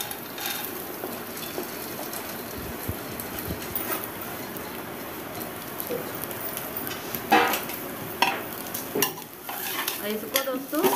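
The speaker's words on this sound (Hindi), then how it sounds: "इसको दोस्तों जो है कम से कम 2-3 मिनट, 3-4 मिनट इसको इसी तरीके से फ्राई कर लेंगे" Arhar dal fries in hot oil inside a pressure cooker, a steady soft sizzle with occasional scraping and clinks of a spoon stirring against metal, close and continuous.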